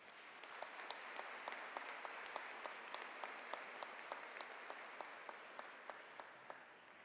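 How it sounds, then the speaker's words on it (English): Applause for students and their families at a high school graduation ceremony: a distant, faint crowd clapping steadily, with individual sharp claps standing out at a regular pace over the hiss of many hands. "If we can please have a round of applause for them."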